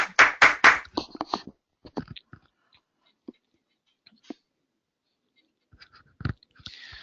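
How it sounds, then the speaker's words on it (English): Hands clapping right beside a microphone, a quick burst of several loud, close claps, then sparse faint taps and a few scattered claps among long silences. "I'm Thank clapping you. near my microphone"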